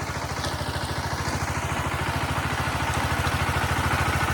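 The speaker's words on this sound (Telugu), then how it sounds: "వచ్చేస్తుంది చూడండి ట్రాక్టర్" A tractor engine chugs steadily with a rapid low throb in a farm field prepared for puddling, running continuously at moderate volume and growing slightly louder.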